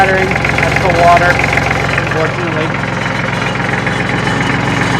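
A Kubota L3400 tractor engine idles up close with a steady rough chattering rumble, while someone talks over it throughout.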